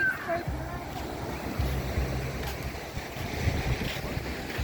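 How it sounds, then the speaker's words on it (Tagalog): Sea waves and gusty wind buffet the microphone along the rough, choppy shore at Naic, a steady broad wash with low rumbling wind bursts throughout, loud and close. "ang ganda ng dagat, maalon"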